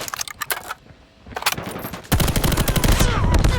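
A Bruen MK9 fires in Call of Duty Mobile: a few short, loud bursts, a brief lull, then a sustained stream of rapid close-range automatic fire to the end.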